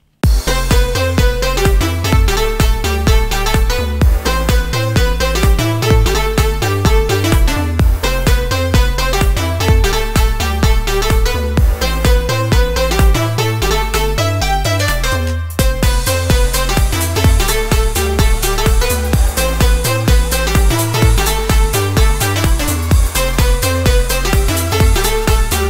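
A loud, continuous future house track made in GarageBand with a driving four-on-the-floor beat, punchy bass and bright synth layers, briefly dipping before picking back up.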